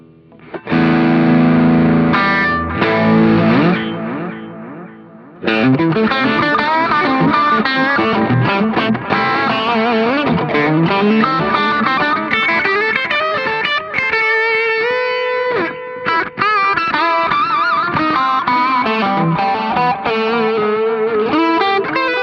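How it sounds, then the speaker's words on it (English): Electric guitar through a multi-effects chain with tape echo on a Zoom G5N: distorted, chorused tones with echoing repeats, first a sustained chord, then busy riffing and lead lines that trail off into echoes. "I've created my effects chain in an empty patch, and let's see how it sounds."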